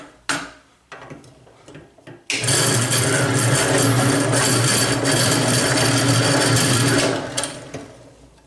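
A Vortex Ball Roller shapes a rough workpiece into a round ball, starting with a few clunks and taps, then a loud, steady rattling whir for about five seconds before winding down.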